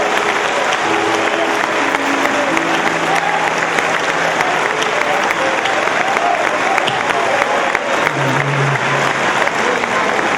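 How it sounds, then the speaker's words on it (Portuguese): A church congregation applauding the Lord, dense sustained clapping from a large crowd filling the room, loud and continuous throughout with a faint murmur of voices beneath. "Pode aplaudir ao Senhor."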